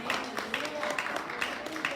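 A church congregation claps in praise during a Spanish-language sermon, a short burst of rhythmic clapping with voices mixed in, moderately loud and close.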